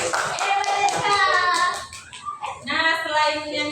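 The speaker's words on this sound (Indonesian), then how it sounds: "Tepuk tangan dulu untuk SK." Students in a classroom during a teaching practice session clap their hands in a short burst, and children's voices chant along with and after the claps.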